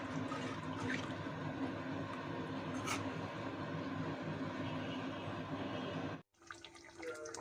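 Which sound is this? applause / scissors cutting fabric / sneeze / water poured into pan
water poured into pan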